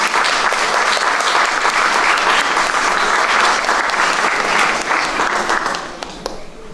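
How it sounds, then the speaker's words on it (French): Applause inside a chapel during a religious pardon celebration: a loud, sustained roll of many people clapping that carries on steadily, then fades and thins out near the end. "on peut les applaudir aussi"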